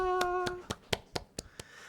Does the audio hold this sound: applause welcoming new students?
yes